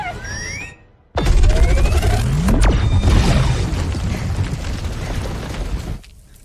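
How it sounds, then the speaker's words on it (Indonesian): A powerful bomb detonates in a science-fiction film scene with a sudden deep roaring blast, followed by a sustained rumbling roar and debris that fades out after several seconds. "Atlas pun menyuruh Smith untuk menyalakan bom yang memiliki daya ledak yang dahsyat"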